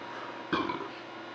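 A single burp after drinking Thornbridge Raven black IPA beer, close and fairly loud, short and guttural with a brief rumbling tail, standing alone against a quiet background.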